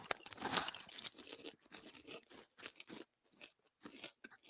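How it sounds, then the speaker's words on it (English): A crunchy snack, eaten together with chocolate, is bitten with a loud close crunch and then chewed in a run of crisp, uneven crackles that fade toward quiet gaps near the end. "This one's really crunchy."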